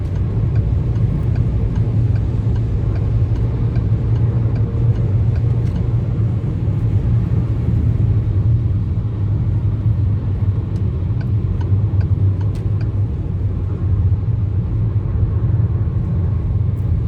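A 1600cc Citroën C4 Picasso decelerates on the road, its low, steady engine and road rumble filling the cabin continuously at a moderately loud level with little change throughout.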